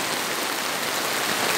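Steady rain falls outdoors, a dense, even hiss of drops striking surfaces close by, with no voices or other sounds.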